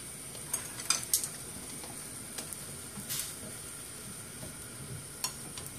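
Japanese instant miso ramen noodles stirred in a pot of boiling water, with faint scraping and clinking of a utensil against the pot over a low bubbling bed, a few louder knocks scattered through.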